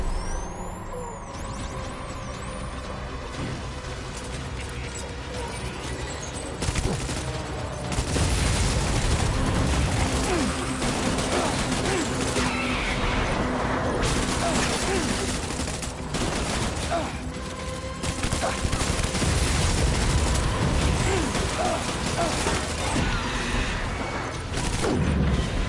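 Dense in-game gunfire with heavy booms and blasts in Death Stranding, loud and continuous across the whole stretch, growing stronger after the first few seconds, with voices shouting over the din.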